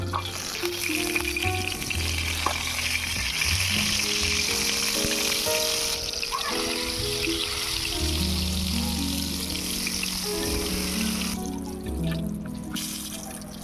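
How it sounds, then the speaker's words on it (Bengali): Eggplant slices fry in hot mustard oil on a tawa, producing a loud, continuous sizzle with crackling spatters, close by and steady for the whole stretch. "তেল গরম হয়ে গিয়েছে, এবারে বেগুনগুলো ভেজে নেব।"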